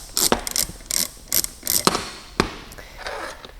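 Stop nut on a Wart Millhog pipe beveling tool being backed off by hand, a series of close metallic ratcheting clicks and gear clatter in short irregular bursts, no talking.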